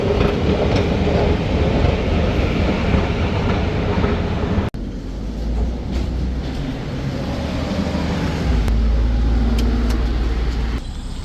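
Train in the Czech Republic, heard as a loud, steady rumble of rolling wheels and carriage noise that runs the whole way, with a brief break partway and deeper rumbling near the end, no talk.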